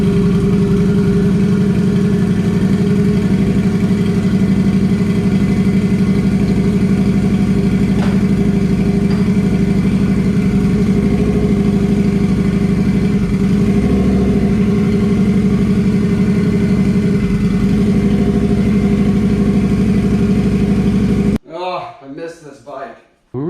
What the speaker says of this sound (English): I just started the bike up a second ago, which I'll put the clip in right here